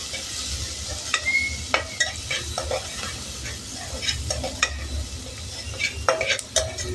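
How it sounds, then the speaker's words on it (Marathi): Plenty of onions and crushed garlic being sautéed in a pan, a soft steady sizzle broken by frequent sharp clinks and scrapes of a spatula against metal, close by and without talking. "कांदा भरपूर घालायचा आहे आपल्याला आणि छान परतून घ्यायचं"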